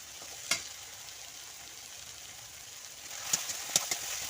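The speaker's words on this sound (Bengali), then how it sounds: "আমার মশলাটা ভালো করে কষানো হয়ে গেছে" Spice paste for a pangas fish tel jhal curry fries in oil, a faint steady sizzle with a few soft stirring scrapes and clinks near the end.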